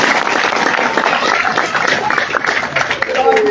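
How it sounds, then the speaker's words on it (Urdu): Crowd at a political gathering clapping for the ILF, a broad mass of applause with background voices and shouting mixed in, loud and sustained throughout. "پہلے تو آئی ایل ایف کے لیے تالیاں بجائیں."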